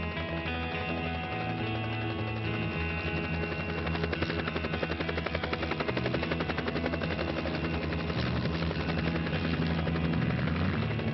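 A Mini-500 light helicopter flies overhead with a loud, continuous rotor chop and engine drone, a rapid pulsing beat that stays steady throughout.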